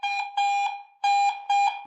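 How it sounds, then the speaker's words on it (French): Electronic detector in use in a cave, giving four clear, fairly loud beeps in an uneven rhythm with short gaps between them, and no voices. "là ça bip, mais le signal est très brouillé et c'est pas bon du tout"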